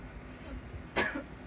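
A single short cough bursts out near the microphone against a quiet background, lasting only a moment.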